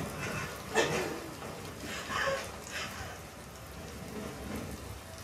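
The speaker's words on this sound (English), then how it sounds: "I like all the rain." Steady rain falls in The Last of Us Part II, a soft continuous wash of drops spread across the whole stretch, with a few louder splashes or faint distant rumbles swelling now and then.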